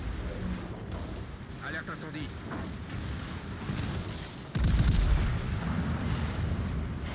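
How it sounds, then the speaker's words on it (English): Warship turret guns firing in World of Warships, a heavy boom bursting in partway through over continuous rumbling battle noise, with someone talking throughout. "His rear turret is coming around. It will shoot me."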